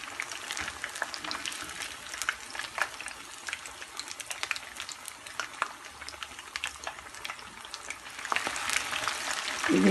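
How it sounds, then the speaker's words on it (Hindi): Fish 65 pieces deep-frying in hot oil on high heat, a dense, continuous crackling sizzle with sharp pops throughout that swells louder toward the end. "तो इसलिए इसको हम तेज़ आंच पे फ्राई कर रहे हैं।"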